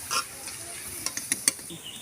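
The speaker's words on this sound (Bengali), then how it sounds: "আরও তিনটে ভেজে নেব" Chhena jalebi fry in oil with a steady, soft sizzle. Several sharp little clicks and pops rise above it near the end.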